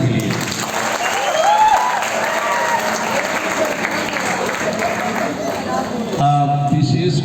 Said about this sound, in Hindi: और एक बार आप सब जोरदार तालियां बजा दीजिए